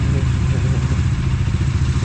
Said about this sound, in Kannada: ಎಲ್ಲ ಬೈಕ್ ಕೋಲ್ಡ್ ಸ್ಟಾರ್ಟಿಗೆ ರೆಡಿ ಇಟ್ಟಿದ್ದೇವೆ.